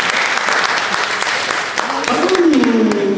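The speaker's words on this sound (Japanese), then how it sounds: "その拍手を聞いて" Audience applause at a street performance by a mixed band, dense clapping throughout at close range, with a voice speaking over it toward the end.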